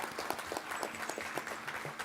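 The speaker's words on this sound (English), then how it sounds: "applause." Audience applause at a school board of education meeting, a steady patter of many hands clapping at moderate volume from a room of people, continuous and fairly faint.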